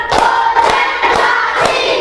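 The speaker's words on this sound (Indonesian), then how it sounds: "tepuk tangan untuk kita semua. Tepuk 1, tepuk 2, tepuk 3, tepuk 4" A classroom of primary school children claps together in a counted rhythmic clapping game, the sharp group claps landing in even, regular bursts under a steady wash of young voices.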